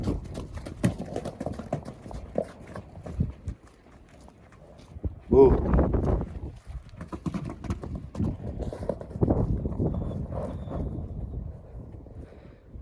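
Vladimir draught horses moving about, with irregular hoof thuds and clops close by amid wind noise and some shuffling.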